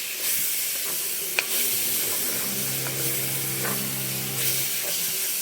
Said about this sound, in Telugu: మసాలా కూడా చక్కగా ఎర్రగా వేగాలండి